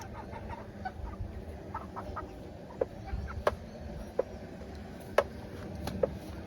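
Chickens cluck softly from inside a crate used for transporting birds on a homestead butchering setup, with a few sharper clucks and calls standing out over a steady low background rumble.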